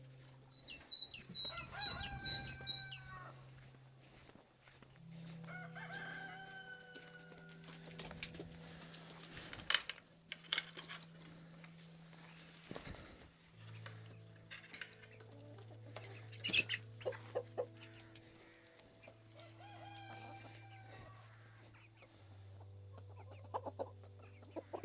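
Free-roaming chickens in a garden cluck and crow, with a rooster calling several times among softer clucks, fairly close and quiet overall, with no talking.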